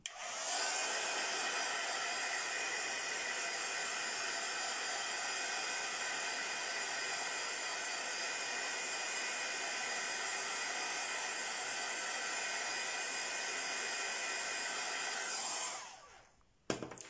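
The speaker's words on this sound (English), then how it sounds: "And now I need to use the heat tool just a little." Heat tool blowing on an acrylic-based craft product, a steady close airy roar running for about fifteen seconds and then switching off, with no voices.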